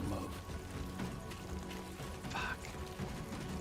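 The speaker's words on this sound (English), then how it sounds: "Uh-oh, we got rain." Steady rain in the video game Death Stranding 2, a continuous soft patter and hiss of drops on surfaces, moderately loud and unbroken throughout, with no speech.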